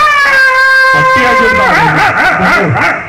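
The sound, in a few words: dog barking and howling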